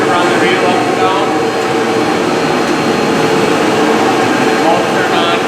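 The vacuum motor and reel motor of a hose reel in a bus garage run together, giving a loud, steady, broadband roar like a vacuum cleaner that stays unchanged throughout.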